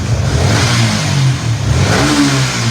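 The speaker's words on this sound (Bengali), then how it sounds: "বাইকের RPM বেড়ে গেছে" A Yamaha R15 V3 motorcycle fitted with a Thai racing ECU revs hard up close, its engine note loud and sustained as it climbs and holds at high RPM, then dips and rises again.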